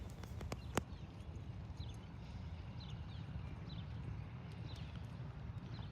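A horse walks steadily during a riding session, with soft, regular hoof clip-clops over a low background rumble. Each step sounds moderately close, and one sharper knock stands out near the start.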